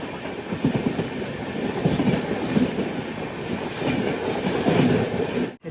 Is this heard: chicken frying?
no